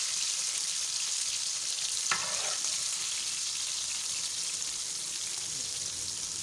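Beef chapli kabab fries in mustard oil, giving a loud continuous sizzle and crackle that stays close and even throughout, with one brief sharp clink partway through and no talking.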